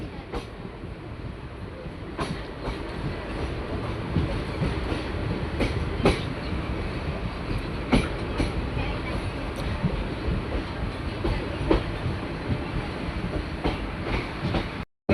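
A train runs on rails arriving at Virpur railway station, a steady loud rumble with regular clickety-clack wheel beats and sharp clicks throughout.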